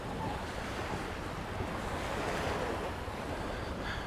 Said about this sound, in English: And the sea's actually a little bit choppy